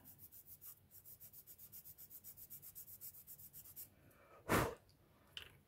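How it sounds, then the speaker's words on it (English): A skinny sanding stick rubs a small plastic part of an Airfix 1/35 scale model kit in quick, even strokes, about two per second, close and soft, followed by one sharp, louder burst. "hold it firmly, get your sanding stick"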